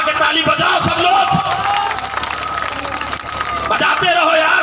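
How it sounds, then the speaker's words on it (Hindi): A large rally crowd cheers and claps together, a dense roar of voices and applause that swells loudly at the start and end and dips a little in the middle. "दोनों हाथ उठा के ताली, और हाथ उठा के ताली बजाओ सब लोग"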